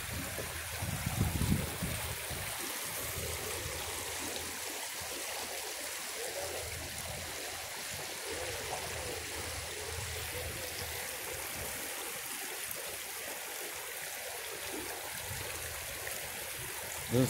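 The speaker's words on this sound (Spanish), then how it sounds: "Aquí estoy en medio del río" A river flows steadily around someone standing mid-stream, a loud, continuous broadband rush of water close by, lasting the whole time with no talk over it.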